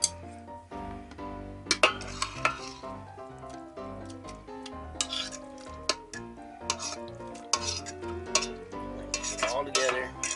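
Wooden spoon stirring BBQ chicken and sauce in an Instant Pot, with repeated scrapes and clinks against the metal pot over a low sizzle, fairly close, and no talking.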